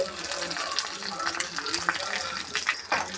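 Cumin, garlic and dried red chillies sizzle in hot tempering oil for a dal pulusu, a steady close crackle with brief sharper pops and spits throughout.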